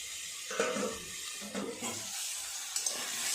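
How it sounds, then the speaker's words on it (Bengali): Vegetables for sago khichuri frying in a pan on low heat, a soft sizzling hiss with intermittent scraping stirs and clinks from a utensil. "কমিয়ে রেখে আস্তে আস্তে সবজিগুলো ভালো করে ভাজা করে নেব"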